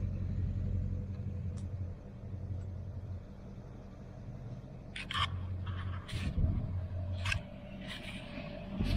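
A pickup truck towing a camper trailer with a Teryx UTV rumbles along the road, a steady low drone with occasional sharp clicks and rattles from the load.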